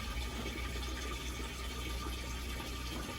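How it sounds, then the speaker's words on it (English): Water pours steadily from the overflow of a caravan's fresh water tank during a repair test, a continuous close rushing splash with no pauses and no talk. "So we've got our overflow of water coming out, and no leak around the tank."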